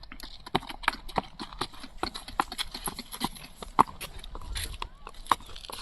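Hooves of a mare clip-clop in a steady, fairly close rhythm on hard ground, with scattered people's voices and chatter underneath.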